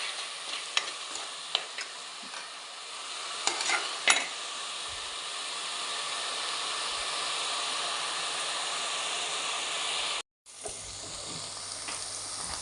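Onions sauté in a pan toward golden brown for a chicken masala curry, giving a steady, loud sizzle and hiss with a few stirring scrapes early on and a brief cut near the end.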